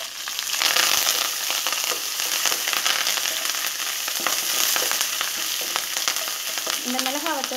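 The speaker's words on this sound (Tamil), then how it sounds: "இது நல்லா வறுத்ததுக்கப்புறம் நம்ம வந்து இஞ்சி, கருவேப்பிலை, வத்தல் சேர்த்துக்கிறோம்" Chana dal, ginger, curry leaves and dried chillies frying in hot oil in a pan, a dense steady crackling sizzle with occasional stirring scrapes, close and continuous with no voices.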